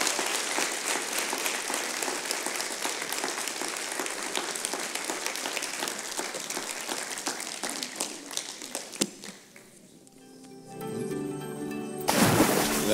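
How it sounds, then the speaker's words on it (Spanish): Church congregation applauding, a dense, loud burst of clapping that thins and fades out partway through, followed by a brief quiet gap and a short return of noise near the end. "¿Cuánto le da un aplauso a Jesús?"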